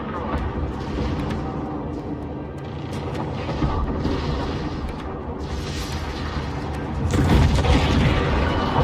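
Spaceships exploding in the space strategy game Homeworld 3, heard as dense, continuous booming and rumbling battle noise with scattered bursts and a louder swell near the end.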